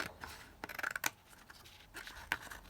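Scissors cut across a thin plastic cereal box liner, giving a few faint, crisp snips and rustles in a quiet room.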